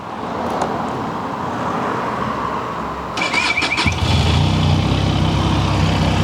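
A Benelli 502X motorcycle engine cranks with a clicking starter, catches and settles into a steady low idle rumble, close by.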